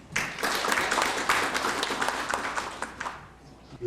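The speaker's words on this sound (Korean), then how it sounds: "한 번 더 박수 보내주시기 바랍니다" Audience applause at an international maritime safety conference: a dense burst of clapping from a seated crowd, steady and fairly loud across the whole span, thinning slightly toward the end.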